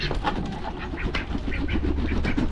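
Ducks quack in quick, scattered bursts close by, a busy run of nasal calls over a low outdoor background.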